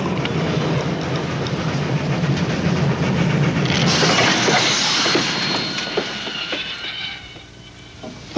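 A luxury train running on rails in a coffee advert, with a loud continuous rumble and rhythmic clickety-clack of wheels close by, brightening with a hissing wash midway before easing off at the end.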